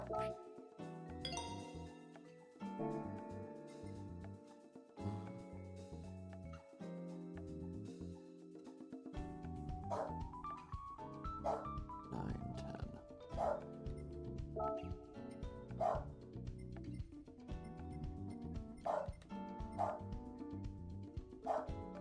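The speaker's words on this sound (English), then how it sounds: "Shush, dog." A dog barks and yips repeatedly in a room during a racing-game session, with sharp, fairly close barks at irregular intervals and whimpers between them, while a person talks.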